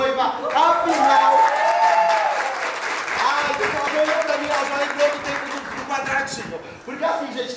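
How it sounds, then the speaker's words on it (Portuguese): Bridal shower guests clap loudly for the bride in a sustained round of applause lasting several seconds, with crowd noise mixed in. "Agora vamos aplaudir nossa noiva"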